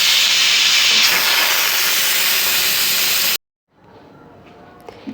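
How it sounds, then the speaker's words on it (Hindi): Steam blasts loudly and steadily from a pressure cooker of beef yakhni as the weight is lifted off the lid, a harsh close hiss lasting a few seconds before cutting off abruptly into quiet. "अब चूल्हा हम बंद कर देंगे और ऊपर से वेट उठा देंगे और स्टीम जो है ताकि सारी निकल जाए"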